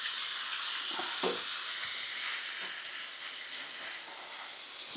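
Freshly flipped pork chops sizzle steadily in a hot pan, a loud, continuous hiss with a few soft clanks as the meat settles.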